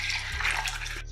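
Water poured into a bowl of dry vegan mince to soak it, a steady continuous splashing pour that runs at close range and then cuts off near the end.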